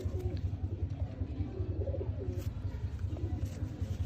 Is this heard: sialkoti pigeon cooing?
yes